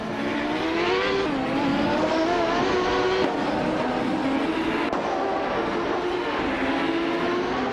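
Race cars run side by side through a corner, engines droning loud and close with overlapping rising and falling pitches as the cars shift and accelerate together, continuous throughout.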